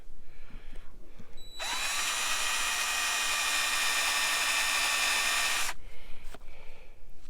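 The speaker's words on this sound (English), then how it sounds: "Step number 2, drill a hole." A power drill bores a hole through a Harley-Davidson Road Glide tour pack. The high whine starts abruptly, holds steady for about four seconds, then cuts off, with faint handling noises before and after.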